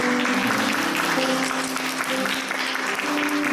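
A church congregation applauds during a Sunday worship service, steady dense clapping filling the room throughout, with a faint sustained tone underneath.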